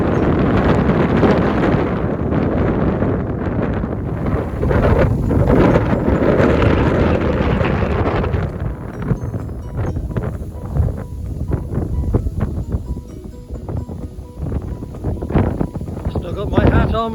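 Strong gusts buffet the microphone during a valley walk, a loud, continuous roar that swells and eases throughout, with rustling and handling noise mixed in.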